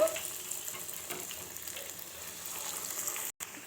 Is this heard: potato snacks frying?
yes